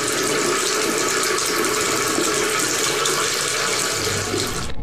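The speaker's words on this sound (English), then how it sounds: "there's a demon in your faucet" Steady, loud water gushing from a faucet, a continuous broadband rush that runs alone for about five seconds before cutting off abruptly.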